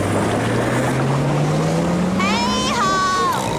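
Grandpa Pig's cartoon motorboat sets off with a steady engine drone that rises in pitch as it speeds up, under constant wind and water wash, while cartoon voices talk over it.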